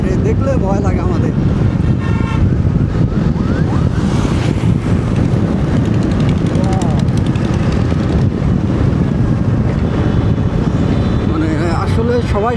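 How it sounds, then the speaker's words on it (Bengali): Motorbikes speed past on a road, a steady loud roar buried under constant heavy wind buffeting on the microphone, with no clear break between passes. "কত করে বাইক স্পিডে যায় রে"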